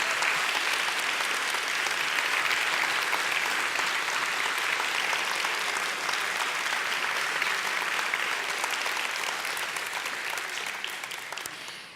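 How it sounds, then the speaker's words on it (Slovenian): A hall full of people applauds steadily for a sheltered workshop centre's 50th anniversary, dense even clapping holding strong before fading slightly at the end. "predlagam, da v uvodu zaploskamo za 50-letnico s 50-kratno močjo"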